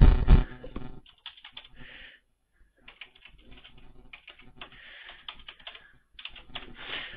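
A new password is typed on a computer keyboard in close, crisp bursts of key clicks separated by short pauses, after an initial louder knock, with no talk.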